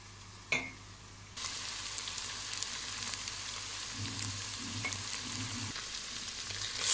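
Tomato paste frying in a pan for a green lentil stew, a steady close sizzle that starts after a sharp knock and runs with soft bubbling and stirring scrapes, no voices.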